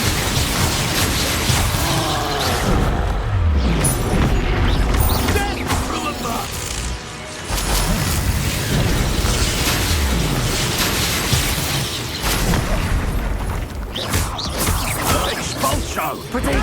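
A dense, continuous barrage of fire-spell blasts and magical combat in Hogwarts Legacy against Ash Riders, loud crackling bursts and booms layered with clashing effects, with voices calling out spells over the chaos throughout.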